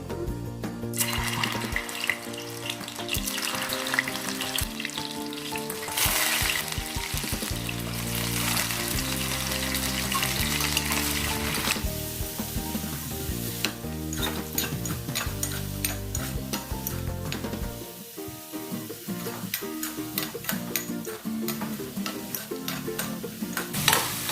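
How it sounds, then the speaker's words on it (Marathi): Boiled taro corms (arbi) frying in oil, a continuous loud sizzle and bubbling with repeated stirring and scraping of a spoon against the pan, close up and without speech. "ते थोडे आता फ्राय करून घेऊ आणि म्हणजे तळून घेऊ आपण तेलामध्ये"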